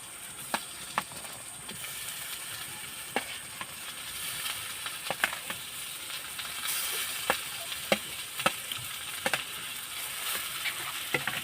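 Mashed potato frying with spices in a pan, a steady close sizzle running throughout with sharp, irregular scraping clicks from stirring.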